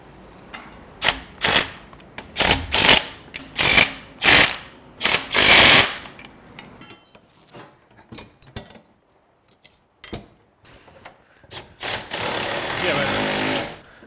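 A ratchet wrench tightens bolts on a 1964 Chevy Nova drivetrain, giving a series of quick, loud, close ratcheting bursts that thin out into scattered clicks, with people talking nearby.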